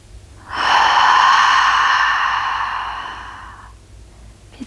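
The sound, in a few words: deep breathing, inhaling and exhaling through the mouth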